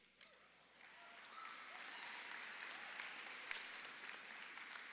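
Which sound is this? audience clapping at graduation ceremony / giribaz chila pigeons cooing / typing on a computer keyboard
audience clapping at graduation ceremony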